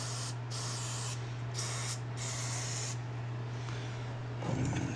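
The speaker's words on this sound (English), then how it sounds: "So I'm just gonna give it a quick spray right now" Contact cleaner sprayed into the electronics and potentiometers of a 1968 Hofner Verithin guitar, several short hissing bursts close to the mic with brief pauses between them.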